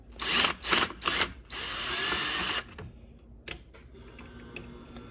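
A Ryobi power drill backs screws out of a shelf being dismantled, giving several short, close whirring bursts followed by a longer steady run, with faint clicks and handling noise between them.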